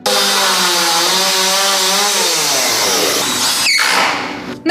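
A loud power saw cuts continuously at a building site where new enclosures for dogs and cats are being built, its whining motor tone shifting pitch as it bites in, then ending abruptly.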